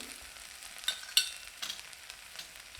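Cumin, chopped ginger and asafoetida tempering crackling in hot oil for pongal, a soft steady sizzle with a few sharp pops and spits, fairly quiet and close, with no voices.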